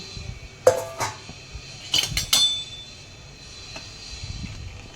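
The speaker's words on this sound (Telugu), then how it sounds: "వన్ సైడు షుగర్ వేసుకొని దాన్ని కలుపుతూ ఉండాలి" Metal spoon stirring sugar in a pan for gulab jamun syrup: a few sharp clinks and scrapes against the pan scattered across a quiet, faintly humming kitchen background, no talking.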